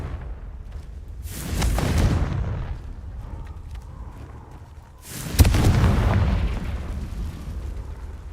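A Confringo spell explosion in the Hogwarts Legacy video game: two loud, broad blasts about four seconds apart, each a sharp burst that rolls into a long rumbling tail, with no talking.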